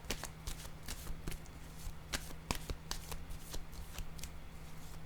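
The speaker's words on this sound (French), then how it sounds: "Je vais déposer une carte sur cette zone." Tarot cards handled on a table, a steady run of crisp flicks and light slaps, close and busy, with a faint low hum underneath.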